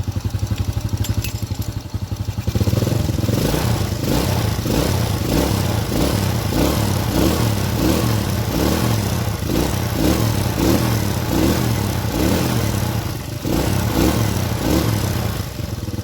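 Honda Supra motorcycle engine, with its spark plug fouling black and stalling, idles to warm up. A steady rhythmic putter runs close and loud, picking up after a brief rougher start.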